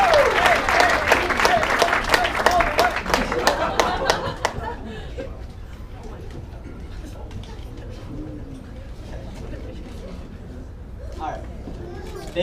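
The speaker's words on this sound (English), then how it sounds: "for the man of the night, please give him a huge round of applause, Anuj." Graduation party guests give a round of applause, lively clapping with cheering voices for a few seconds that then stops abruptly, leaving quiet room murmur, scattered chatter and a few faint claps.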